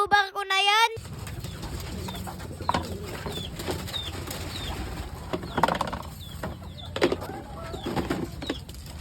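Blue bar racing pigeon landing at its loft after a flight, with brief wing flaps, soft cooing and scattered rustles from other birds in the loft, a faint background hum throughout.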